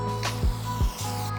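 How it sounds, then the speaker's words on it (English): Rust-protection spray hissing onto a Porsche 928 outdoors in gusty wind, heard as a few short, breathy bursts over a steady low hum. "the moment I start spraying, the wind builds up"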